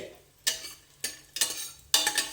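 Cashews, raisins and almonds are being stirred in a pan. A spatula scrapes the pan in four distinct strokes over a faint background, each stroke sharp and bright and then fading, heard up close and without talk.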